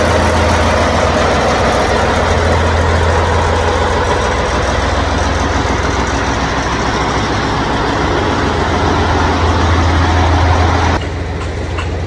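A Kirovets K-700 tractor engine runs steadily at idle during a tractor acceptance check, with a loud, continuous low rumble heard alone for the full length, no talk, and a slight drop in level near the end.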